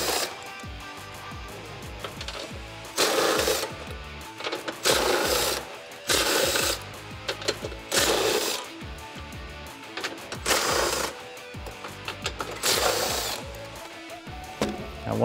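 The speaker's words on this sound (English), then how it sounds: "I'm gonna take my gun and my 13 millimeters, start removing these nuts" Impact gun spinning off 13 mm nuts holding a metal bumper to its plastic cover on a Jeep Wrangler JL, several short buzzing bursts of a second or so, separated by quieter pauses and handling sounds.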